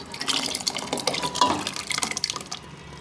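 Water poured into a dal mixture for Andhra-style pappucharu, an irregular splashing and gurgling pour with small drips, close and moderately loud.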